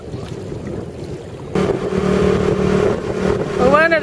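Motorbike engine riding around a tropical island, a steady droning hum that swells louder partway through, with voices talking over it.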